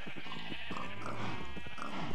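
Sheep bleat in the video game Minecraft on a laggy farm crowded with sheep and cows, with a few wavering bleats overlapping steadily at moderate volume against soft game ambience.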